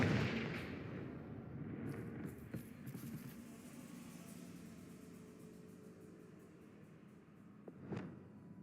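A Confringo fire spell from the game Hogwarts Legacy lands as a booming blast that decays slowly, followed by fainter crackles and a second sharp burst near the end.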